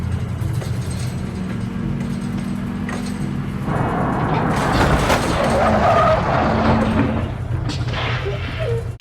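A truck skids to a stop in a Breaking Bad episode, with engine rumble and a broad, harsh tire-scrub burst building midway and lingering loudly under the scene.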